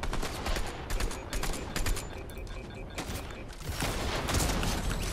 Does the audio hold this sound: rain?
no